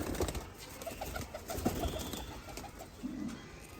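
A golden cross breeder male pigeon of a high-flyer bloodline coos softly, a repeated rhythmic series of low coo notes close by, faint over quiet background hiss.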